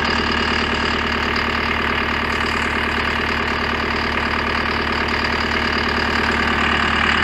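A machine's diesel engine idles steadily and loudly up close, with a continuous rhythmic knocking chug and vibration holding constant throughout.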